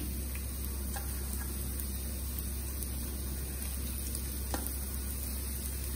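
Ginger, green chillies and whole spices such as black pepper and cinnamon sautéing in a pan for a Gujarati vaal pulao, giving a steady close sizzle with faint scattered ticks and stirring taps throughout.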